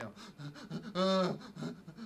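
Heavy breathing and moaning performed as a recorded film sound effect for a creature, a close, breathy vocal sequence of rhythmic pants building to a sustained, voiced moan in the middle before easing back to panting.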